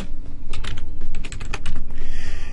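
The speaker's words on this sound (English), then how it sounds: "let's type in an email address" Quick, uneven clacking of keys on a computer keyboard as an email address is entered, close and fairly loud, with short bursts and brief pauses.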